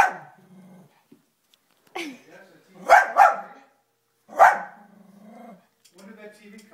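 A dog barks in short bursts, a few sharp barks close by, with a person talking in between.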